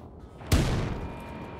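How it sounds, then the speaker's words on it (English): Heavy gunfire in the shooter Wolfenstein 2: The New Colossus hits as one sudden loud blast, then a long booming rumble that slowly fades. "Someone just use machine gun."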